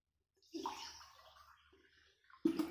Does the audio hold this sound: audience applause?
no